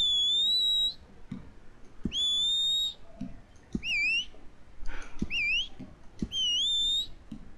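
A character's whistle in a Western online game plays as a series of clear, high, sliding whistle notes repeated several times, some rising and some dipping, each lasting about a second, with soft clicks and light background noise in between.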